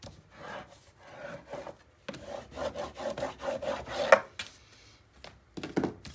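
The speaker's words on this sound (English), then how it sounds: "Okay, burnish." Paper being burnished for a 9 x 9 scrapbook album build makes a close series of short, rhythmic rubbing strokes, with a few brief pauses and no talk.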